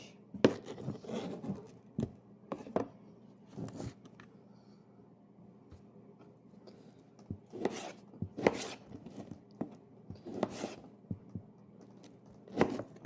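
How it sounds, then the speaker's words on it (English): A knife chops fresh tomatoes on a board in irregular clusters of sharp knocks, close and fairly quiet, with pauses between the cuts and no talk. "We don't need to cut these into small chunks, just 2 or 3 times each"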